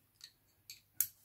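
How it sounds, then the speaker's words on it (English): Scissors or cutters snip through motorcycle throttle cables on a Suzuki GT750 during carburetor removal, three sharp separate cuts in quick succession, the last one loudest. "I cut the throttle cables"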